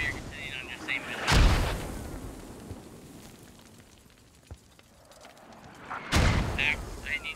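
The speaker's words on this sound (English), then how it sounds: "The mortars are just devastating right now." Heavy mortar impacts in a war video game: two loud booming blasts, one near the start and one near the end, with a faint thud between them and rumbling debris throughout.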